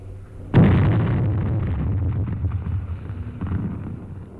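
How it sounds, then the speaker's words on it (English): A grenade explodes in a dugout: one sharp, loud blast followed by a long, rumbling decay and gusty noise, with no talk. "Toss in a grenade and let them divide it."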